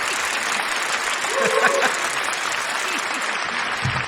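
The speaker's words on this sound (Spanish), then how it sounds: "Un aplauso para él" A studio audience breaks into loud, sustained applause for guest Manuel Marín Domínguez, the flag bearer, with a brief shout and murmuring voices rising over the steady clapping.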